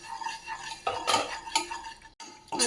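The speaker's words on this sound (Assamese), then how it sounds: "এইখিনি মই এতিয়া ভাজি ল'ম।" Semolina stirred and fried in a pan, a metal spoon clinking and scraping against the pan in uneven strokes, close and distinct, no talk.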